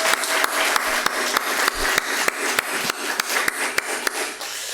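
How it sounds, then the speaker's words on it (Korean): A church congregation applauds steadily during a Sunday worship service, a dense, even wash of clapping with a few sharper claps standing out, close and sustained without voices. "잠깐 일어서 주시고 큰 박수로 환영하기 원합니다."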